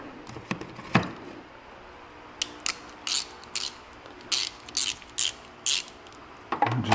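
A ratchet and socket tighten bolts on a Jeep Gladiator, producing a series of short sharp clicking bursts with brief gaps between strokes, close and distinct against a quiet background.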